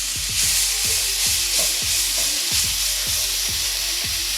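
Carrots sautéing in a hot pan for fried rice give a loud continuous sizzle, with regular scraping strokes of a spatula roughly twice a second, no voices.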